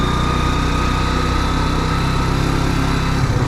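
A motorcycle engine strains on a rough forest road, a steady droning buzz with constant vibration, close and even for a few seconds without speech.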